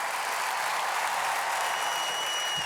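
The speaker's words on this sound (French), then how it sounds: "On peut les applaudir très fort" A studio audience at a French music quiz show applauds steadily, a dense even wash of clapping that holds for a few seconds before tapering at the end.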